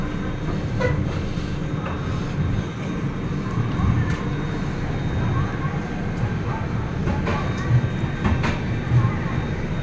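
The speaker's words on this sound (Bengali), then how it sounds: "কাটপাটি স্টেশন ছেড়ে ট্রেন বেরিয়ে যাচ্ছে।" A train pulls out of Katpadi Junction station in South India, its steady low rumble and rolling noise continuous throughout, with scattered faint voices and occasional clacks over the top.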